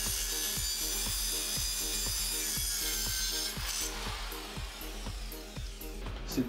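A handsaw cuts an oblique line through wood in quick DIY work, with steady back-and-forth strokes repeating about every half second, rasping and close throughout.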